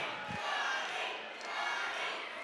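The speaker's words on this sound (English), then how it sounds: "if you're Rivera, and you're hearing them chant the other guy's name" A boxing arena crowd at a Rumble in the Rockies bout chants and roars in a sustained, rising and falling wall of voices heard from a distance.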